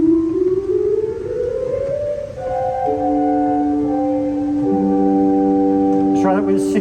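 A concert hall pipe organ sounds its 8-foot tibia clausa stop, smooth sustained flute-like tones that slide up and then hold as layered notes, steady and fairly loud in the hall.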